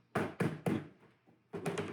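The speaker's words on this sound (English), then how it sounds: "I can easily just knock this plank out." A vinyl flooring plank from a Winchester Vinloc click system being knocked loose, a run of three dull thunks followed by a quieter tap and then a rapid cluster of knocks, close and solid.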